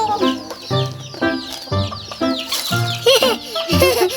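Loud, close chicken clucking in repeated bursts, several hens calling over one another in a steady, squawking rhythm at feeding time.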